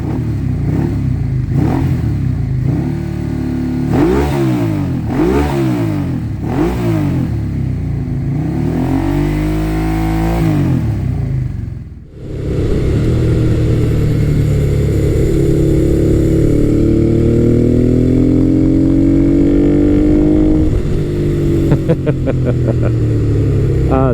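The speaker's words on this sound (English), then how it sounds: "This bike also has a Two Brothers exhaust system on it, so it sounds really, really nice" A 1990s Honda sportbike fitted with a Two Brothers exhaust rides along a road, its engine revving up and down in repeated loud sweeps, briefly dipping before a long sustained pull with a strong, throaty tone.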